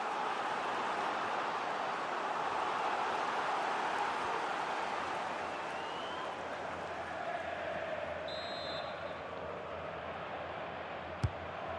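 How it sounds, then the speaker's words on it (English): Stadium crowd in the FC 26 football video game, a Kilmarnock versus Real Madrid Champions League match, reacting to a corner with a broad swelling roar that fades to a murmur, ending in a sharp thud. "the crowd know that set pieces could be their best chance. Just listen to that reaction."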